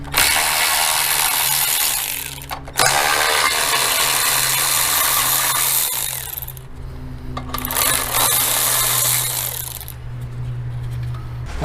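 Ratchet or power tool work on bolts of a 2004-2013 Mazda 3 transmission, a steady, loud, continuous mechanical whirring that runs almost throughout with brief pauses, no talking.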